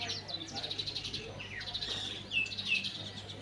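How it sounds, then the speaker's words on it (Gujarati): Bird chirps and calls sound outdoors over a low background hum, with faint cooing from a pigeon nearby pecking at grain. No clear voices are heard. "કબૂતર આવ્યું છે ચણી ખાવા આવ્યું છે કબૂતર"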